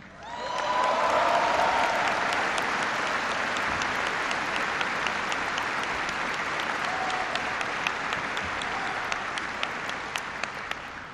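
A large audience at a military event applauds the Ground Forces Band, steady dense clapping with scattered sharper claps that swells quickly and holds loud and full throughout.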